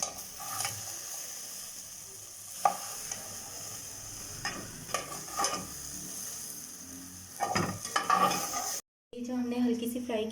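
Okra frying lightly in oil is stirred now and then, a soft sizzle with scattered scrapes and clinks of a utensil against the pan, close but fairly quiet, followed by a brief cut to a different kitchen scene.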